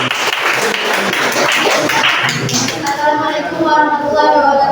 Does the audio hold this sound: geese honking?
no